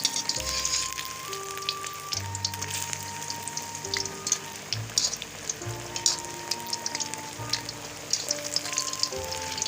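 Restaurant-style masala fish frying in hot oil, a steady close sizzle with crackling pops and no talk.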